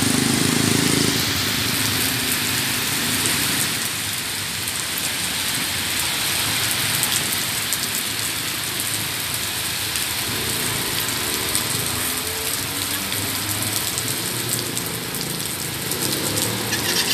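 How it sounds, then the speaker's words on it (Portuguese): Heavy rain falling in Maringá during a storm with strong wind, a loud, dense, steady hiss of drops on surfaces throughout with no clear easing. "Tá parando mais a chuva."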